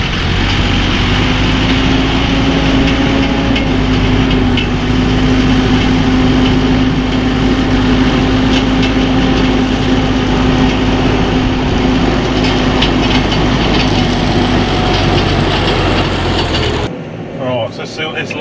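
A New Holland T5 tractor with front loader idles steadily in a field of big bales, a loud, close diesel drone with a constant low hum that cuts off abruptly near the end.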